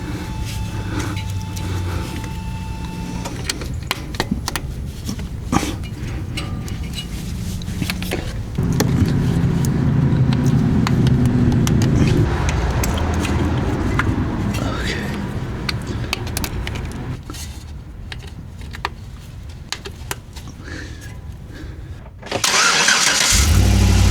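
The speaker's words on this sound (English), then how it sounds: "Wonder if I should fire it up and see if we got any" A GMC Sierra 1500 pickup with a swapped 6.2L engine, exhaust manifold gasket under repair, cranks over and settles into a loud, steady idle in a garage, with a brief sharp burst near the end; a person speaks over it.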